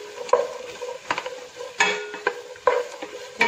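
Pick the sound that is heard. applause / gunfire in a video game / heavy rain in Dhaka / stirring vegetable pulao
stirring vegetable pulao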